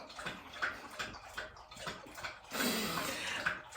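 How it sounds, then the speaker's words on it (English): A dog lapping water loudly, close up: a series of wet splashy laps in an uneven rhythm, rising to a denser burst of lapping toward the end, with no talking. "That's my dog drinking water."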